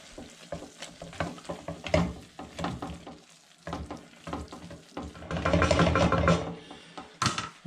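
A spoon stirs a knob of butter into a cooking pan of chard and onion filling, with scraping strokes in irregular rhythm over a soft sizzle that swells louder toward the end, close by with no talking.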